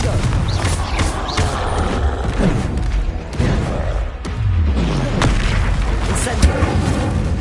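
Repeated booming blasts from the Confringo blasting curse in Hogwarts Legacy, loud thumping explosions spread through the stretch amid ongoing game noise and a voice speaking.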